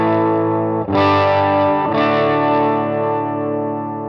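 An electric guitar played through the second side of a Wannabe dual overdrive pedal rings out as a few thick, sustained, moderately crunchy chords, loud and close with no talking.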